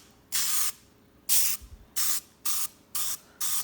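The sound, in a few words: Misto sprayer spraying healthy oil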